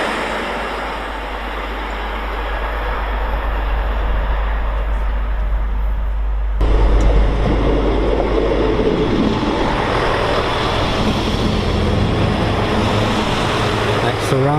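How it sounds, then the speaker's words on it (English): A Class 91 locomotive-hauled express, 82213 leading, speeds through a station on the East Coast Main Line, a loud broadband rush and roar surging sharply midway and sustaining to the end, with continuous low rumble. "Time for a 91 to speed through."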